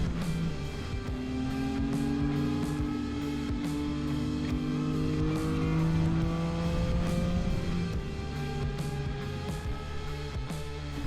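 A group of motorcycles riding on a road near a racetrack in Chiang Mai, engines droning and shifting pitch loudly and steadily with the bikes close by.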